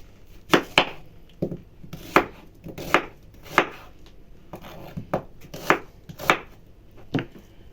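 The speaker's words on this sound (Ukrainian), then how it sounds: "Нову цибулю нарізаємо." A knife chops through an onion on a cutting board in about a dozen distinct, sharp, evenly spaced strokes, close and clear with no talking.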